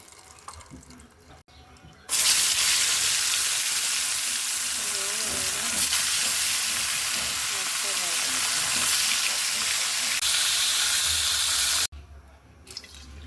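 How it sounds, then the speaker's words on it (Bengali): Bhetki fish coated in turmeric fries in hot oil, a loud, close, unbroken sizzle that starts abruptly and runs about ten seconds before cutting off, with quieter kitchen sounds on either side. "ভেজে নিচ্ছি হলুদ দিয়ে আমি মাছটা এই যে ভেজে নেবো তেলের ভিতরে"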